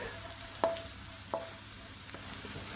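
Garlic frying in oil in a pan for a pork, ginger and spring onion stir-fry: a soft, steady sizzle with a couple of sharp utensil taps against the pan.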